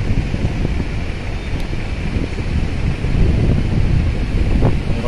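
Strong wind roars steadily into the microphone, a dense low rumble that stays loud and constant throughout, with no voices.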